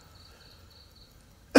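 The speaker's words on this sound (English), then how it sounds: "I'm just going to keep clearing my throat." A man in the middle of a spiritual talk clears his throat once, close and abrupt, in a short loud burst at the very end after near silence.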